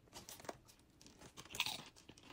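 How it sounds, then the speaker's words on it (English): Tortilla chips served with a green goddess salad are crunched and chewed up close, a few crisp bites in irregular rhythm, fairly quiet with no talking. "speaking of crunchy, my favorite part of the salad is that it's served with tortilla chips"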